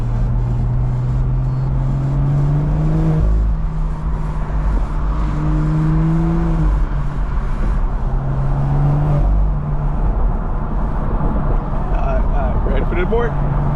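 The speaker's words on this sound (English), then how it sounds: "You guys can actually hear the car more." A 900 hp BMW E92 drives at night, its engine droning and rising and falling from inside the cabin, mixed with music and someone talking over it.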